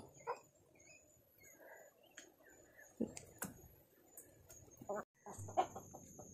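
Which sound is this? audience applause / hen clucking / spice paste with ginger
hen clucking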